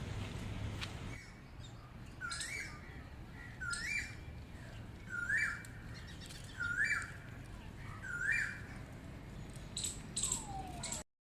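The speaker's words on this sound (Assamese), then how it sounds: "পাৰ্কত এই কুলিৰ মাত শুনিছো" An Asian koel calls again and again in a park at a steady pace, a rising whistled note repeated about five times, over constant outdoor hiss.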